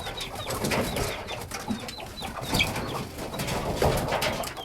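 Chickens stream out of their coop, making busy, overlapping clucks and soft calls at close range, mixed with rustling and shuffling. No talk is heard over them.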